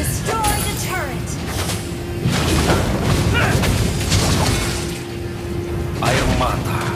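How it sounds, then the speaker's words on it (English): A turret blowing up in a mobile battle arena game, a heavy boom and crackling debris underneath the in-game announcer's voice and steady battle noise, with more thuds following. "Your team destroyed the turret."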